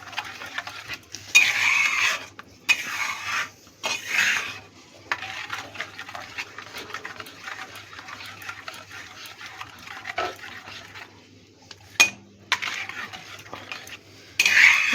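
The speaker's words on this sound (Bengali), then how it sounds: "ভালো করে মিশিয়ে নেব।" Ingredients for mustard bhetki fish being mixed make bursts of close stirring, clinking and scraping against a dish, with short quiet gaps between strokes and one sharp knock.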